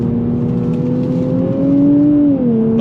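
A 2026 Nissan Z Performance engine revs up under throttle from a dead stop, a loud, steady, rising drone that climbs in pitch continuously without a break, heard close with no talking.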